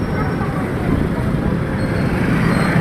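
Busy street traffic in the Philippines, dominated by motorized tricycles and motorcycles with a few cars, forms a steady, loud, dense rumble of engines without pause.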